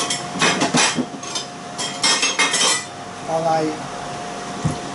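Ceramic bowl and dishes clinking and knocking as a bowl is pulled out and handled in a home kitchen, several close, sharp clatters in quick clusters followed by quieter shuffling.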